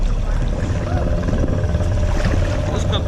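Honda outboard motor idling while submerged underwater, a muffled, steady low rumble with bubbling water texture, heard fairly close and continuous for a few seconds.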